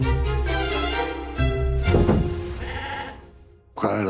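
Sheep bleat loudly and close by in a stage play at an arts centre, several wavering, harmonic cries following one another, with a short pause before a final sharp bleat.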